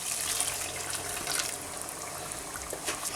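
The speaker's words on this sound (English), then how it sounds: "we're going to add hot boiling water in there" Hot boiling water pours steadily into a pot of minced meat, peas and potatoes with a hissy, splashing rush, fairly quiet and continuous without a break.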